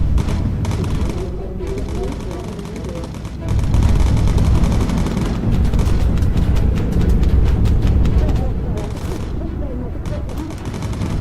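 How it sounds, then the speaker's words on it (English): Anti-aircraft flak bursts and gunfire in the Bomber Crew video game, a dense, loud, continuous barrage of booms and rapid shots over a rumbling engine drone, growing heavier partway through. "Got some flak appearing in front of us here."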